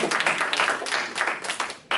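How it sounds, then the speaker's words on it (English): An audience at an interview event applauds in a dense, continuous patter of many hands, moderately loud and steady across the moment with no talk over it. "so let's just give a round of applause"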